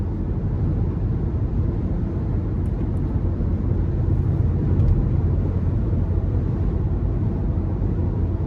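Steady low road and engine rumble fills the cabin of a 2011 Range Rover Sport HSE with the 5.0 engine at highway speed on cruise control on the interstate, a constant even drone with faint wind hiss.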